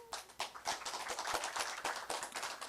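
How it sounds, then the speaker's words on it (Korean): Audience applause during a political speech, a dense patter of many hands clapping steadily throughout, fairly quiet and alone without talk. "박수를 쳤어요."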